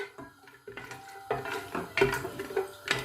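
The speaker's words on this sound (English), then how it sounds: "So I'll put these cashew nuts now." Cashew nuts drop into a cooking pan with light clatters and scrapes of a utensil against metal, a faint background sizzle, and several sharper knocks near the end; quiet and close.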